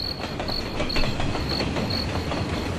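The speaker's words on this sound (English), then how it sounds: "Yeah, it's the train sound." A train rumbles steadily as the intro of a song, with rhythmic clicking and a thin, high wheel squeal repeating over a dense low roar.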